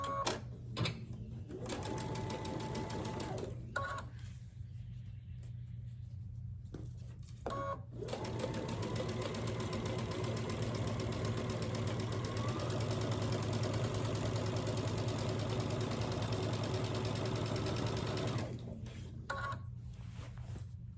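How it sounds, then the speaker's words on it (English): A home sewing machine runs steadily while stitching quarter-inch seams to join quilt rows, its fast even whir holding for long stretches and pausing briefly in between, close and clear with no voices. "So I'm going to stitch a 1/4 inch down this side"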